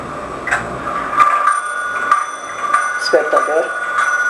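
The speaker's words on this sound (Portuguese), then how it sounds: "Despertador." A mechanical alarm clock rings with a steady, bright metallic bell tone and repeating pulses that run through the whole stretch, with faint voices in the background.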